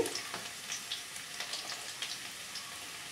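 Chopped garlic and chilli frying in hot oil, a steady close sizzle with faint crackles and pops and no voices.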